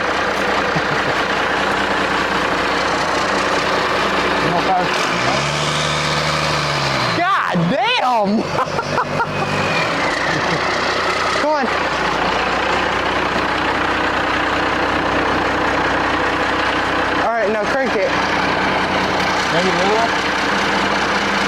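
A hot rod engine cranks and then runs at a steady rumbling idle inside a custom car shop, loud and close throughout, while people talk over the engine noise.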